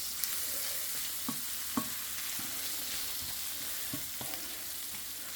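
Vegetables for shakshuka fry in a pan with a steady close sizzle, broken by a few soft knocks of stirring, and no talking.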